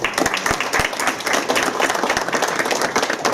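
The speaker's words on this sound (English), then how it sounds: "And I do want to give her a round of applause." Lively applause at a city council meeting honoring Linda Lopez, with close, distinct hand claps standing out over a steady crowd clapping throughout.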